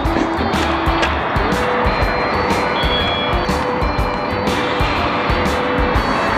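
Constant heavy traffic roar while crossing a road by bike, with cars rushing past close by, tire hiss and occasional horn-like tones over a dense, unbroken wash of engine noise.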